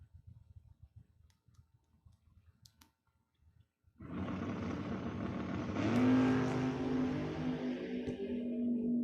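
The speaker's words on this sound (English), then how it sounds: "Stock eliminator car." A stock eliminator drag racing car at Mid America Dragway launches down the strip. After a few seconds of quiet track ambience, a loud, sustained engine roar erupts and keeps climbing in pitch, staying strong to the end.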